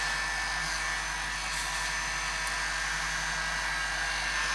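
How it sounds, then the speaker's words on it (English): A heat gun blows hot air for shaping foam pieces, a steady close whooshing roar with a constant electric hum underneath, unbroken throughout. "We take the heat gun."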